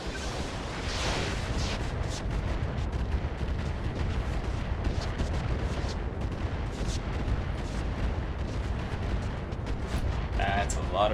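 Dense, continuous volley of missile launches and impacts from a BattleTech RogueTech mech battle, a loud rumbling barrage of overlapping booms and crackles with no pause for eleven seconds.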